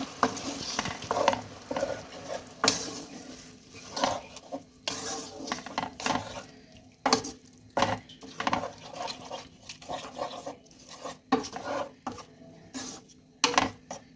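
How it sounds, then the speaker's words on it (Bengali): Yogurt being stirred into masala in a pan over low heat for a prawn pulao, a steady run of scraping spoon strokes against the pan with a soft sizzle underneath, close and alone without talk. "যতক্ষণ না ফুটছে ততক্ষণ এইভাবে নেড়ে যাব।"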